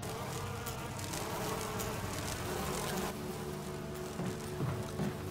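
Swarm of bees buzzing in the video game Resident Evil, a continuous dense droning hum with scattered tonal whines, moderately faint and without speech.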